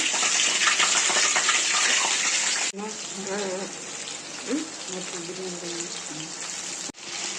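Chicken pieces dropped into hot oil and frying, a loud rushing hiss of bubbling oil that briefly drops and resumes, with a voice speaking over the sizzle.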